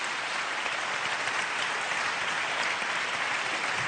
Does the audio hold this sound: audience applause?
yes